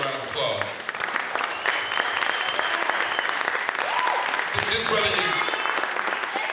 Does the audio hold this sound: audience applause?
yes